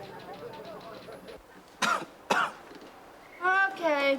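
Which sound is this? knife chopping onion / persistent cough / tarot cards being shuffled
persistent cough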